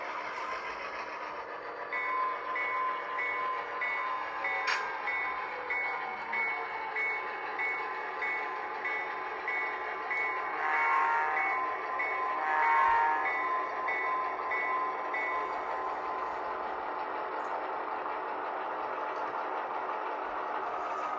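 Freight train pulling two railroad cars, one a Penn Central car, out onto the main line: a steady rumble of rolling cars with a repeating reversing-style beep tone running through the middle stretch.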